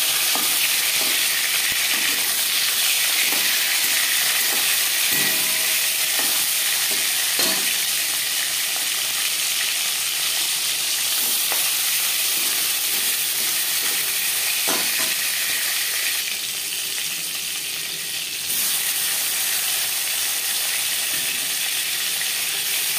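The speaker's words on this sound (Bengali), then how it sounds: "3 চামচ সরষের তেল গরম করে নেওয়ার পর দিয়ে দেবো লবণ হলুদ মেখে রাখা মাছ।" Katla fish pieces rubbed with salt and turmeric sizzle steadily in hot mustard oil, a loud continuous frying hiss with occasional stirring clicks and no talking.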